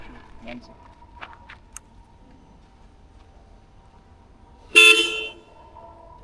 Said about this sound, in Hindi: एक और चीज़ की हॉर्न मुझे सबसे प्यारी लगती है, ऐसी लगती है कि पीछे से कार आ रही है